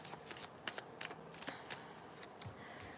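Tarot cards being shuffled repeatedly, with crisp riffling bursts and soft flicks in an irregular rhythm, up close and with no talking.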